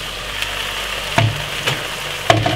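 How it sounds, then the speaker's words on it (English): Potato sautés in a pan with seasoned vegetables for a creamy potato soup, a low, even sizzle with a few sharp clanks of a utensil against the pan. "So we're gonna just saute off the potato with everything for a nice good 10 minutes."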